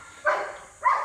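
Guard dogs kept for protection at a property in the Philippines, near a construction area, give two short, fairly faint barks about half a second apart, at a moderate distance, with no talking.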